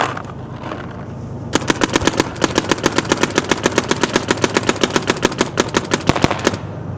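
A Planet Eclipse Gtek M170R paintball marker with a Spire 3 loader and stock barrel fires a rapid, steady burst of sharp close-up shots for about five seconds, then stops.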